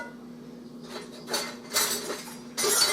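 Kitchen utensils rummaged in a drawer while hunting for a spatula, metallic clinks and clatters building in bursts over a low steady hum, the loudest jangle at the end.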